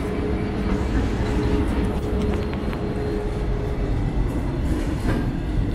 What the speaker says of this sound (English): there's a train going down the main street